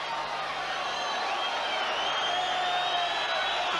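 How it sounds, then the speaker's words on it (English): A football crowd at Millwall v Nottingham Forest, steady broad roar and applause filling the stadium, sustained and fairly distant. "I think the crowd will register their appreciation of the entertainment this afternoon."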